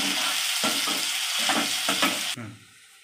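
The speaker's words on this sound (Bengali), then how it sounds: "কুচানো লঙ্কা দিয়ে দিচ্ছি, কুচানো টমেটো দিয়ে দিচ্ছি। এটা একটু ভেজে নিই" Chopped green chilli and tomato frying in a pan for a bhindi-potato fish-roe chochori, loud sizzling broken by several scraping stirs, then the frying drops sharply quieter near the end.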